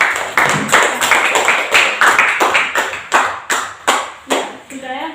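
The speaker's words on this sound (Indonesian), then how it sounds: "kita berikan tepuk tangan" A primary school class in Indonesia claps together in a steady patterned rhythm, about a dozen sharp, loud, evenly spaced group claps close by, ending with a brief voice.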